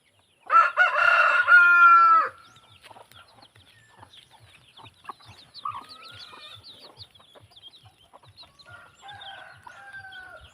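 A rooster among native free-range chickens on a farm crows loudly and close by once, then quieter clucks and calls from the flock continue in the background.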